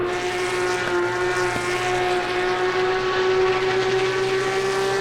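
A Porsche Cup race car's engine in Assetto Corsa Competizione on the Nordschleife drones steadily at high revs, a loud continuous whine with slowly rising pitch and brief shift blips, without talk.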